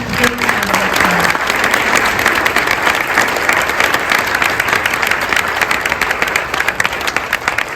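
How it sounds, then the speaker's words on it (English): School board meeting audience giving a big round of applause, loud, dense and sustained clapping from many people filling the room, with a brief voice at the start. "Let's give our individual presidents a big round of applause."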